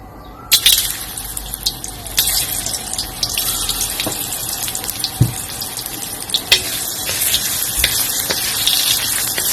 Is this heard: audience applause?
no